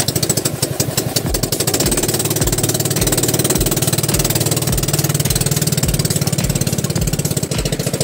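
A boat engine runs loudly and steadily nearby, a rapid chugging idle with a regular low thumping pulse throughout, no talk over it.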